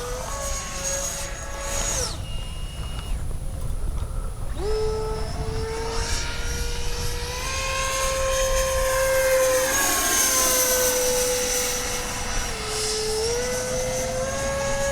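A Kavan Skyfox L-39 80mm RC jet plane flies overhead, its electric ducted fan holding a steady high whine that rises and falls in pitch as it passes, loud and continuous throughout.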